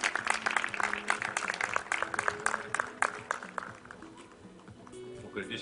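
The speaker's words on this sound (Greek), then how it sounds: "Ένα χειροκρότημα για όλους" Applause from a crowd at a national dog show, a loose patter of clapping mixed with people talking nearby.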